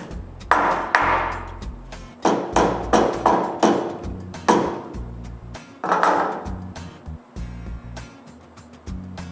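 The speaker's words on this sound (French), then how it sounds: "avec mon maillet, je mets le tout parallèle avec la lame de scie" A series of sharp wooden knocks from a mallet tapping a table saw's parts into alignment with the blade, struck in irregular bursts of several blows with short pauses, close and fairly loud.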